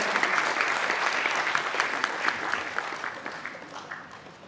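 An audience claps for a stage lighting designer after a ballet performance about Rani Durgawati in Bhopal, a dense burst of applause that starts loud and slowly thins and fades.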